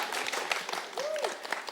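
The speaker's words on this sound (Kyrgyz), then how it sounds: "Кол чабуулар." A studio audience at a Kyrgyz TV entertainment show claps for a singer being introduced, a loose mid-level patter of hands with scattered voices and a brief whistle-like tone in the middle.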